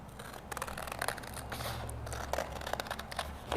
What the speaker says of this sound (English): I can just bring my scissors in and cut right along my line.